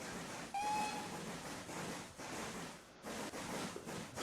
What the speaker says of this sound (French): On va faire un petit sifflet d'au revoir.